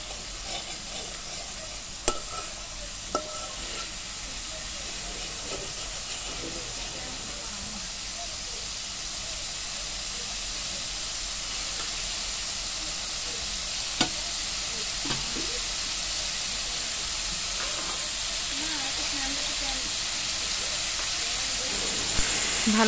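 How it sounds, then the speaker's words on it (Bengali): Boiled jackfruit core cooking down with a little water and salt in a pan, a continuous hiss and sizzle with frequent stirring scrapes and a few spoon clinks, steady and close throughout. "আমি অল্প সামান্য একটু পানি দিয়ে এটাকে কষিয়ে নিচ্ছি।"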